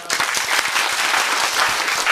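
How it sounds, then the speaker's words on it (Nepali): Loud, dense applause from a live audience at a Nepali dohori folk duet singing performance, steady clapping filling the whole moment without voices. "जोरदार ताली"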